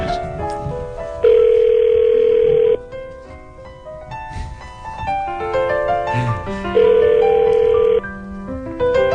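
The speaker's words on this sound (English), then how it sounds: "Calling back Lewis." A steady ringback tone sounds in two long bursts over soft background music, the second beeping pattern repeating after a pause.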